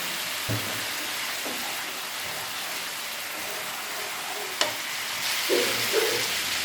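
Spice paste for khaira fish curry frying in a pan, a steady close sizzle like light rain, broken by a few spatula knocks and stirring scrapes, with no one speaking.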